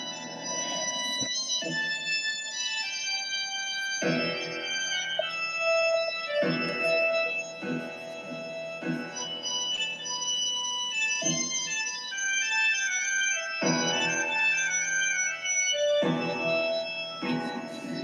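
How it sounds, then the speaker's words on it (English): Vampire-themed Dracula music streams from a YouTube video, a steady layered instrumental with repeating melodic phrases and sustained tones playing continuously at moderate volume, with no one speaking. "We can do one more minute of Dracula music, then we can start at 5 past."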